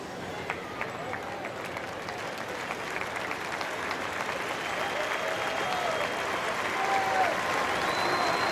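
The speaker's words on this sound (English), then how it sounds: "you see the Oklahoma fans applauding, but the Baylor fans are applauding as well" Stadium crowd of Oklahoma and Baylor fans applauding at a college football game, a dense sustained wash of clapping that swells slightly toward the end, heard at a distance with faint whistles.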